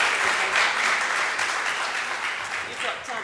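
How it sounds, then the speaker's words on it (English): An audience at a heritage tourism symposium claps in a brief, steady burst of applause, with some voices mixed in beneath the clapping. "A round of applause."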